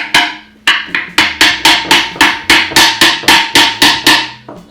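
A hammer taps a hide-glued dovetail joint together on a dresser drawer, about a dozen sharp wooden knocks at a steady, fairly quick pace, close and loud.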